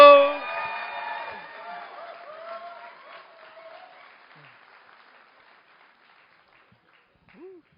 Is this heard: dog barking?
no